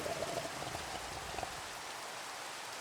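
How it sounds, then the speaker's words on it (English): Steady rain in the Minecraft video game, an even, dense hiss of falling drops that continues unbroken at moderate loudness with no voices over it. "Once this rain settles"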